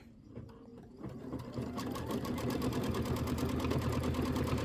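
An embroidery machine starts stitching a sentiment block on a quilt design, quickly building into a rapid, steady mechanical chatter with a rhythmic needle pulse, close and alone.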